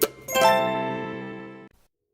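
A short notification sound effect: a brief pop followed by a bright bell-like chime that rings for over a second, then cuts off abruptly.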